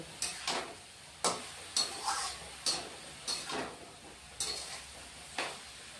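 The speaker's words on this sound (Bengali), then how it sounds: "এখন ফোড়ন দিয়ে এখন এভাবে আবার আরো ভেজে নেব" Turmeric, cumin and red chili powder frying in a pan with tempering spices, stirred in a steady rhythm of soft scraping strokes about once a second over a faint sizzle, close and fairly quiet.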